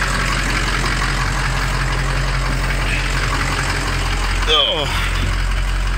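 A 2003 Ford 6.0 Powerstroke diesel truck engine runs steadily at idle with a low, constant drone and rattle, close by, while a brief voice interjects near the end.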